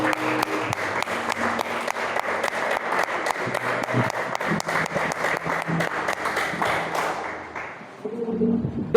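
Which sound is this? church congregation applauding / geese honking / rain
church congregation applauding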